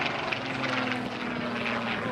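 A Supermarine Spitfire PR.XIX propeller aircraft flies at an air festival, its engine a steady droning roar with a low hum, under people talking.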